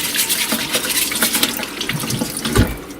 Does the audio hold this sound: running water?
yes